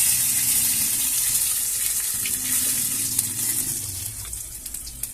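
Fresh bay leaves and dried red chili sizzle in hot tempering oil, a steady close hiss with faint crackles and pops that gradually eases over about five seconds.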